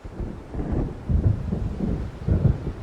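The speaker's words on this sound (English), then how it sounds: "It seems there's a storm coming" Low, rolling thunder of an approaching storm rumbles in several heavy swells beneath faint wind in the Alan Wake video game, with no voices over it.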